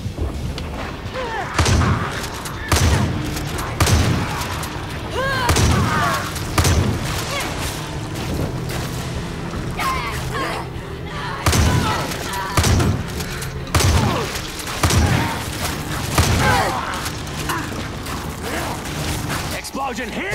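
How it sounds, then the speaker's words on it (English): Explosions and gunfire in the video game Far Cry 5, with repeated heavy booms and bursts of shots at irregular intervals across a busy, continuous battle din, with talk over parts of it. "Explosion here, explosion there!"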